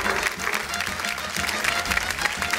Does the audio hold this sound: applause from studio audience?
yes